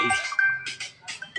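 A phone rings with a short electronic melody of repeated chiming tones, clear and nearby, with a voice murmuring briefly underneath.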